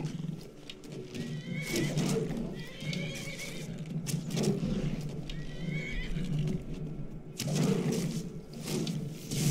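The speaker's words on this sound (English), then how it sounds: "Is that my horse?" A horse in the video game Skyrim whinnies several times over clopping hooves, with loud, close neighs spread across the clip.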